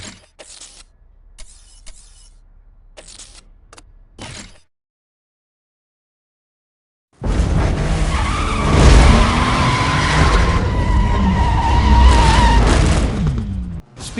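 Audi A4 3.2 FSI racing in NFS Most Wanted, loud engine roar with sustained tire squeals and skidding after a few short bursts and a silent gap.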